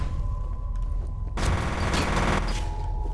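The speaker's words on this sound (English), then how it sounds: "Seriously, who's shooting at us?" A heavy burst of rapid gunfire from the video game F.E.A.R. breaks in after a quiet stretch with a steady tone and continues loudly and densely to the end.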